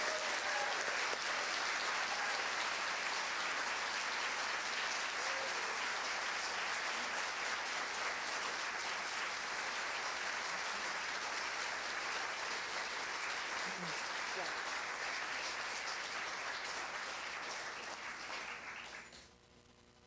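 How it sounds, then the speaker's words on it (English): A memorial celebration-of-life audience gives a long, sustained round of applause, an even wash of many hands clapping that holds steady for most of its length before thinning and fading out near the end. "what I'd like to do is just give everybody a round of applause"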